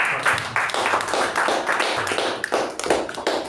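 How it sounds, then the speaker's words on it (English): Applause from a seated audience at a Toastmasters club meeting, a dense, steady patter of many hands clapping close by, sustained throughout with no talk over it. "A huge round of applause for the"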